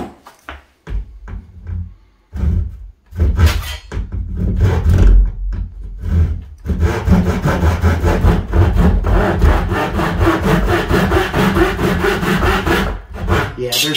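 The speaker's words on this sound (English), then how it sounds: "there might be a little too much pull with the manual saw" A hand saw rasps through a wooden door jamb in steady back-and-forth strokes, starting in short bursts and then settling into loud, continuous sawing up close.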